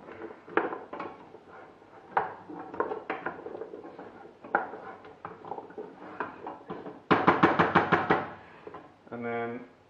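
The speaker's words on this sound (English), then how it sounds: "And give that a mix just to get it all mixed in with the onion and the ginger." A spoon knocks and scrapes in a pot as sweet potatoes are stirred with onion and ginger, giving irregular wooden and metallic clunks that end in a quick burst of rapid taps. A voice speaks faintly in the background.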